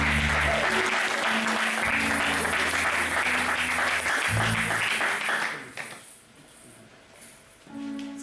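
Church congregation applauding loudly and steadily for several seconds, then the clapping thins out and fades, leaving quieter room noise with a low musical tone underneath.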